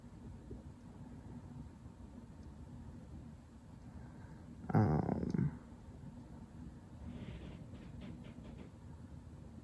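A dog growls once, a short rumbling burst up close in a quiet indoor room, with faint low background hum before and after.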